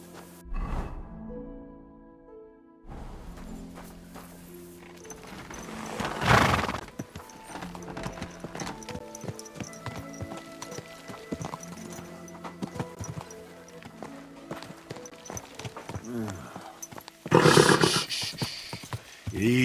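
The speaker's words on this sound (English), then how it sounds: "Easy, good horse." Horse hooves clip-clopping in the medieval game Kingdom Come: Deliverance 2, a steady walking rhythm of hoof falls close by, with a horse whinnying and snorting at moments over faint background sounds.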